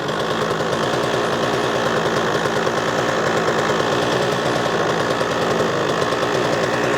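A scooter fitted with a Malossi RC-ONE 94cc engine runs nearby on fumes with no fuel reaching the line, a loud, continuous rapid rattling buzz that holds steady throughout.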